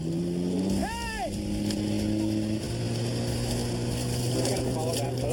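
A motorboat engine drones steadily and loudly nearby in Alaska, its pitch shifting as it passes close to a floatplane, with shouting voices over the engine noise.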